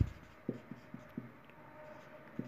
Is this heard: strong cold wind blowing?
no